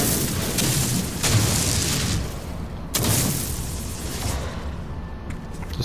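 Gun firing in the space game No Man's Sky, heavy booming shots at about one, two and three seconds over a dense, rumbling background, loud and close.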